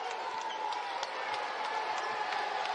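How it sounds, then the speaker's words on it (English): Houston Cougars fans celebrating in a basketball arena in Orlando, a continuous roar of cheering and scattered clapping, steady and moderately distant with no clear break. "Crowd of Cougars celebrating, making the long trip here to Orlando"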